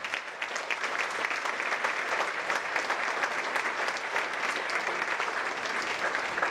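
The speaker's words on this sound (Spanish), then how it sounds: "Den un aplauso a Dios" A church congregation applauds, many hands clapping in a steady, even roar that holds for several seconds without pause.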